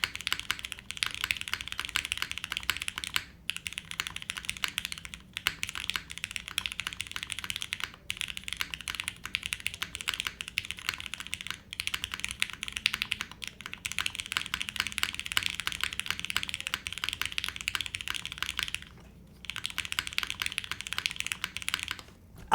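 Rapid typing on a Shadow 80 mechanical keyboard, a dense stream of close, crisp key clacks with brief pauses between bursts and no speech.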